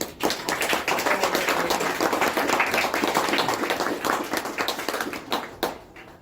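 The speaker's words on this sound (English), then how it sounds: "I really just want to have a round of applause from everyone" Steady round of applause from an audience at a chamber of commerce annual general meeting, dense clapping sustained for about five seconds before thinning out near the end.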